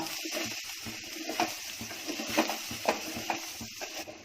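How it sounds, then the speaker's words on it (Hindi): Rice and dal frying with onion in a pan for a Konkani meal: a steady low sizzle with soft stirring scrapes and a few louder spoon strokes, close up and with no talk. "2 मिनट मैंने चावल को भून ली, दाल चावल को प्याज के साथ।"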